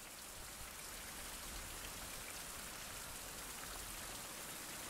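Steady, even rain falls in the survival video game Survival - Fountain of Youth, a faint continuous wash of drops with no voices.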